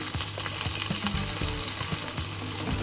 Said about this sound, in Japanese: 豆腐をスプーンで成形してあげて入れるとうまくいい感じの形になるんですけど